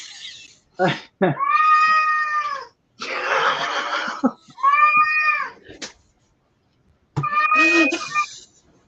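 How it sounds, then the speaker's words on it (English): Two male cats meow loudly and insistently, several drawn-out, whiny calls in a row with short pauses between them, close by. "the cats are being obnoxious"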